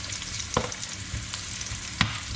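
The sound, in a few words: cumin seeds sizzling while frying in a pot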